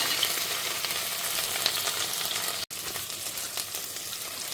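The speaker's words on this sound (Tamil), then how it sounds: "வெங்காயம், பச்சை மிளகாயை போடுறேன்." Onion and green chillies drop into melted butter with ginger-garlic paste in a cooker, making a loud, continuous, close frying sizzle with stirring. The sound briefly cuts out midway, then resumes.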